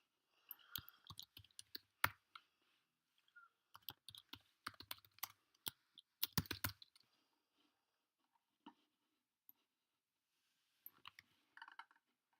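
Computer keyboard clatters in several quick bursts of key clicks, close and fairly quiet, with gaps of near silence and a few isolated taps between runs.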